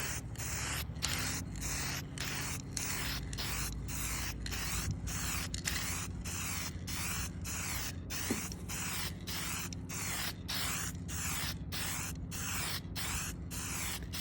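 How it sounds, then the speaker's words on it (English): An aerosol can of nitrocellulose spray paint hisses in a steady series of short bursts, each a few tenths of a second long, close up with brief pauses between them. "I'm going to spray with some Sonic Blue nitrocellulose spray paint."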